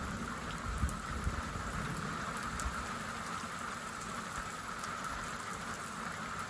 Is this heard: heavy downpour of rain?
yes